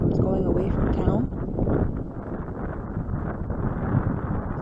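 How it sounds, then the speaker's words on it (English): Strong wind on a dry hilltop near a forest fire buffets the microphone with loud, steady roaring gusts, continuous through the whole stretch. "It's very windy up here, so bear with me."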